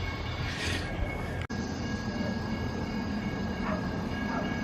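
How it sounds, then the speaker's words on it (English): A train rolls into Portland, Oregon, near Laurelhurst Park in Southeast on a fine day, a steady loud rumble of wheels and cars with a brief dropout, faint high squeals rising over the constant roar. "here comes the train"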